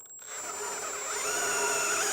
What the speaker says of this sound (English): Now we've got our 1/4 inch drill bit on, and we're gonna go ahead and widen out these holes on the bottom.